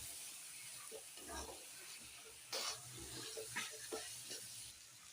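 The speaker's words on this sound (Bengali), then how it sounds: "একটু জল দিয়ে দিচ্ছি, মশলাগুলো তলায় বসে যাচ্ছে" Water is poured into a cooking pan where spices are being fried down for a meat curry. It makes a faint, steady wash of pouring and splashing, with a slightly louder surge midway and no talk.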